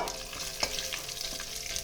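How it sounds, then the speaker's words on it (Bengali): Tempering of bay leaf, dried red chillies, cumin and nigella seeds frying in oil, a brief soft steady sizzle with a few faint crackles and a light stir. "এবার ফোড়নটা একটু দু সেকেন্ড ভাজা ভাজা করে নেব"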